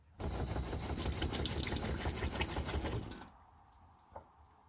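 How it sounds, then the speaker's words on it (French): Water runs steadily through the pump-fed tap of a Chausson Twist V594 campervan once the system is switched on, a close, continuous gush lasting about three seconds before cutting off, followed by quiet with a faint click. "Quand c'est allumé, l'eau est enclenchée."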